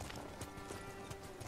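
Horse hooves clip-clopping in the Ghost of Tsushima video game, a steady rhythmic trot of hoof beats over a constant background of game ambience.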